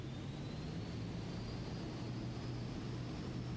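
Steady, droning engine roar of an aircraft at full throttle during a missed-approach go-around in Microsoft Flight Simulator 2024, with a faint rising whine over a constant low hum and no talking.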